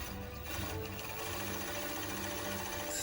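A Fusion 757 five-thread overlock sewing machine stitches at a steady pace, a loud, continuous mechanical whirring and rattling hum with no pauses.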